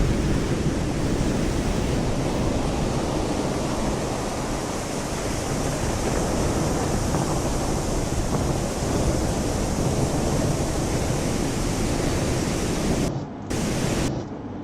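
Steady, heavy wash of ocean surf rolling onto the shore, broad and continuous with a windy hiss, briefly dipping near the end.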